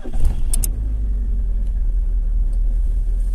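A car engine fires up and settles into a steady low idle rumble, started remotely through a keyless start-stop module, with a couple of brief high clicks near the start.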